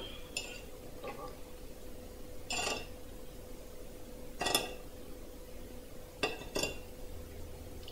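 Metal utensils clinking against a plate as cooked chicken for a Sri Lankan coconut chicken salad is laid out, a handful of sharp, separate taps and scrapes spaced apart over a quiet background.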